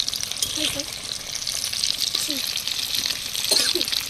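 Sand fish cutlets frying in a pan in a village kitchen, a steady close sizzle with occasional spatter and stirring sounds throughout, with a voice speaking briefly over it.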